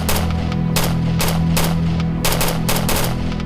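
Rapid bursts of gunfire in a Hindi-dubbed TV drama action scene, several loud volleys in quick succession over a steady low rumble of background score, no talking.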